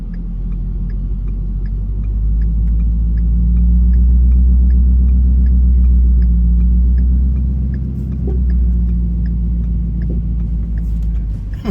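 A 6.7 Powerstroke diesel truck engine rumbles steadily and close during a car recovery from a roadside ditch on the way to snowboarding, swelling louder midway as it pulls, with no talking.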